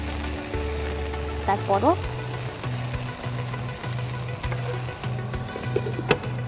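Fish paturi wrapped in leaves fries in oil in a covered pan, a steady close sizzle with a brief clatter and a few short words spoken.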